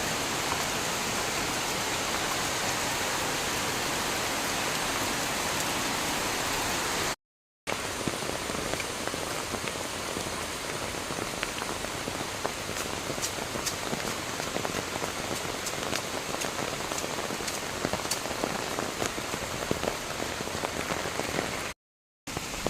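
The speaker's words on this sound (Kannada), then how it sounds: "ತುಂಬಾ ಜೋರು ಬಂತು ಮಳೆ" Heavy rain pours down steadily in a dense, continuous roar of drops striking surfaces, with no voices, briefly cutting out twice.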